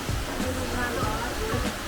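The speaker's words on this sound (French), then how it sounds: "Et ça les amis c'est une cascade hein." A waterfall in a Swiss valley of many cascades rushes with a constant, broad hiss of falling water at moderate distance while a person speaks over it.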